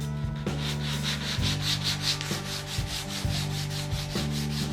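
Wooden guitar braces being finish-sanded by hand, a steady rhythmic rubbing of abrasive on wood repeating in even strokes, close and fairly loud with a low hum underneath.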